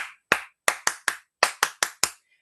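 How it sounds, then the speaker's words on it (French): A crowd claps together in unison at a training event, about nine sharp, separate claps in a loose, uneven rhythm, close and fairly loud, with silence between each one. "On donne une acclamation bombardique à notre Samlo."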